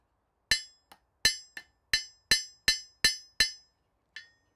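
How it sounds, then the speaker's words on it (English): A very small hammer taps metal in a smithy with nine sharp, ringing strikes at an uneven pace, each decaying quickly, close and clear in otherwise quiet surroundings. "I have that teeny weeniest little hammer here."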